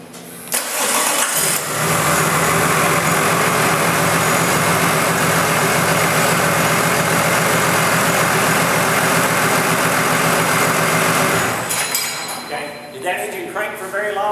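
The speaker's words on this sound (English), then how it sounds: "start engine." A car engine cranks and catches, then runs at a loud steady idle for several seconds before cutting off, with some clinking afterward.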